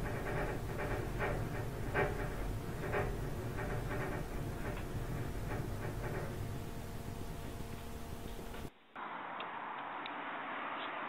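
A train passes at night with a steady rumble and a run of rhythmic clicking wheel beats, heard from indoors at a moderate distance before the sound cuts off abruptly into a thinner, quieter background.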